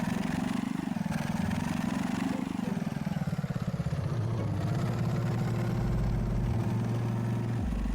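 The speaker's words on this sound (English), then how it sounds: "as we drive by some of these cars, they all sound the same to me." Passing car traffic in the Food Delivery Simulator video game: synthetic engine drones rise and fall as vehicles go by, with steady low tones shifting pitch, moderately loud and without talk.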